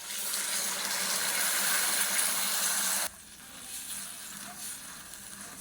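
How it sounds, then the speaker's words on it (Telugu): Water pours steadily into a kadai holding jaggery for about three seconds, a dense splashing rush that then cuts off, leaving a quieter faint residual trickle and handling sounds. "టీ గ్లాస్ వాటర్ వేసుకుందాం"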